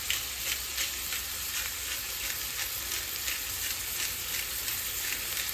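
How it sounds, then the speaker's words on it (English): Burger patties sizzle steadily in a hot frying pan, a close, bright crackling hiss with small popping bursts, continuous and unaccompanied by speech. "Got a nice going sizzling already."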